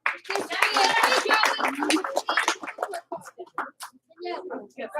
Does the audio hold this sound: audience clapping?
yes